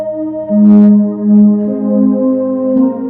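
Soft synth pads from a small keyboard swell in long held chords that shift slowly between a few tones, smooth and sustained with gentle rises in volume.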